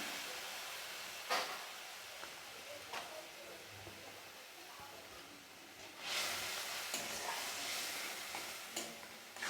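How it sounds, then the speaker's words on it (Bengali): Spice paste of chilli powder, green chillies and turmeric cooks with a splash of water in a pan for an amudi fish curry, with a soft hiss, intermittent stirring scrapes and brief louder sizzling bursts. "এবার আমি একটু জল দিয়ে মশলাটাকে কষিয়ে নেব"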